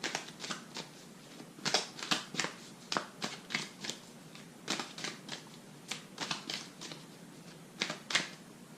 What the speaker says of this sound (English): take a little cleansing breath and shuffle the cards